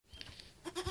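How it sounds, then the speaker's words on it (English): A little goat bleats in a rural Ukrainian village at feeding time, giving short nearby bleats with a louder cry near the end. "And this little goat wants some milk."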